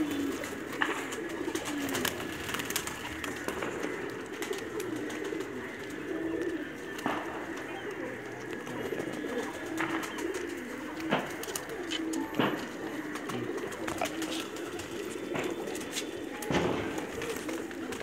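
Pigeons coo steadily in a home pigeon loft, a continuous low throaty murmur from several birds close by, with faint chirps and rustling mixed in and no talking.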